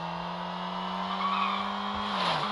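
Car engine drones steadily in the Traffic Racer video game, a sustained high whine with a brief tire-skid squeal near the end, continuous and fairly close.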